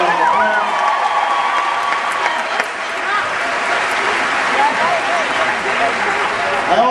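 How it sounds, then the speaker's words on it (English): A large crowd at a Truman High School rally in Levittown applauds and cheers continuously, a dense, loud wash of clapping with shouts and whistles mixed in throughout. "Please give him a big round of applause."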